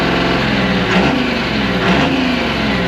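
A 1975 International Loadstar 1850 truck engine revs loudly and close by, with two swelling throttle blips riding over a steady rumbling idle, and no voices.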